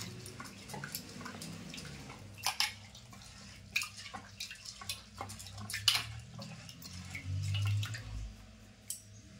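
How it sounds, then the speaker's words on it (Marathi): Lentils being rinsed in water in a home kitchen: faint, irregular splashes, drips and clinks, with one brief gurgling pour, all fairly close and quiet. "या दोन्ही आता मी स्वच्छ धुवून घेते डाळी"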